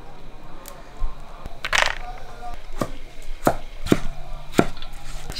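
Knife chopping cucumber and bean sprouts on a board: a handful of sharp, spaced knocks over a quiet kitchen background, close and moderately loud.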